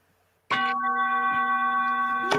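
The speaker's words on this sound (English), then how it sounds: "ring the bell" A single bell strikes sharply and rings out as a clear, sustained metallic tone with steady harmonics, close and loud after a moment of silence, with a faint second strike at the very end.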